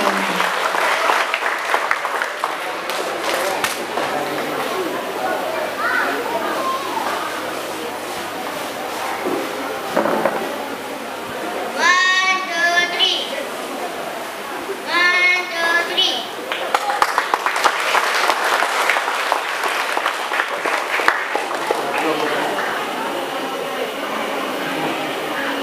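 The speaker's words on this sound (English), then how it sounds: "Please give a big round of applause." Audience applause for a children's school action song performance: a steady, dense crowd clapping runs through the whole stretch, with brief raised voices and cheers near the middle.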